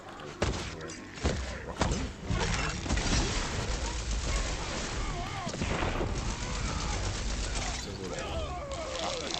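Gunfire in Tiny Tina's Wonderlands, a dense, loud barrage of thumping shots and game effects running steadily throughout, with a few heavier impacts near the start and people talking over it.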